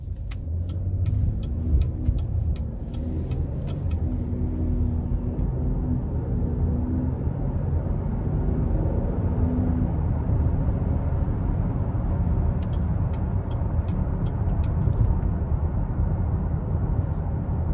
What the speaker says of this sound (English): now we're gonna go ahead and take this 2022 Blazer RS out on the road for a quick test drive